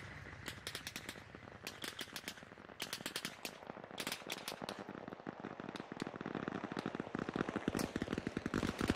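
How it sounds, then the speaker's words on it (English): Gunfire in the military video game Arma Reforger, dense bursts of automatic fire and crackling shots, sustained and fairly near, building louder toward the end, without talk. "They're shooting already."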